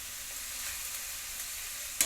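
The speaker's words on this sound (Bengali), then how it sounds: "চর্বিটা দিয়ে ভালো করে কষিয়ে নিচ্ছি" Mutton fat sizzles in a pan while being browned with liver, a steady, hissing fry that runs evenly throughout and ends with a brief sharp bump, with no voices.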